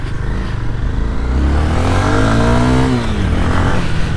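Honda CB Twister 2021 motorcycle engine revving loud and close, pitch climbing steadily then dropping back, a continuous rough drone with no talk.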